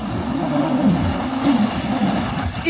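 A Citroën car, two-wheel drive, grinds through thick mud at a mud run event, its engine droning steadily and rising and falling close by with no break.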